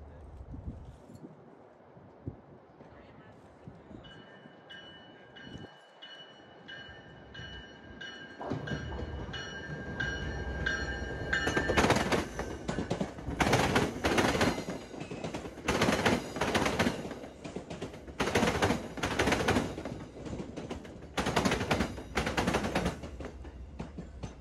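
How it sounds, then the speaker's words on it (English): An inbound MBTA commuter train starts quietly, then accelerates over a rail diamond crossing. Its wheels hammer out a loud, rapid, rhythmic clatter of repeated bangs that grows heavier and closer. "The inbound gets the okay to go and accelerates over"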